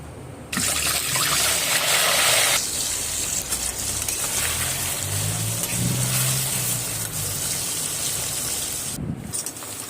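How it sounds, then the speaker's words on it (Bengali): Boiled meat fries in hot oil, a constant bubbling sizzle with a louder burst as the pieces go in, continuing without talk. "মাংসটাও ভালো করে ভেজে নেব"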